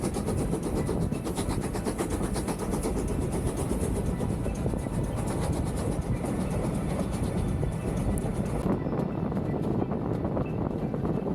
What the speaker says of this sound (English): Steam railway magic.